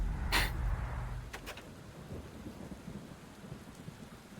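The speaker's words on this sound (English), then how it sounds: "You can tell it's a dramatic moment because it's raining." Rain in the video game Bastion falls steadily after a loud thunderclap at the start, a soft continuous patter that fades slightly over the few seconds, with no speech.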